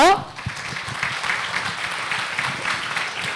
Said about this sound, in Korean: 여러분 큰 박수로 의원님 무대 위로 맞아주십시오